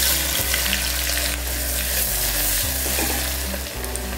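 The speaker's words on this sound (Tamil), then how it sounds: "பார்த்திங்கன்னா வெங்காயம்லாம் நல்லா வதங்கிருச்சு, போதும்." Onions, both large and small shallots, sautéing with whole spices in hot oil for a Tamil green peas kuzhambu, giving a steady close sizzle with occasional stirring scrapes throughout, no voices.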